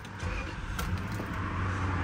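A Lexus LS 400 engine catches almost instantly and settles into a steady, smooth idle, heard close up with a constant low rumble throughout.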